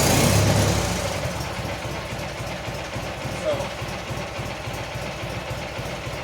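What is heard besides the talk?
Magnum engine idling after a cold start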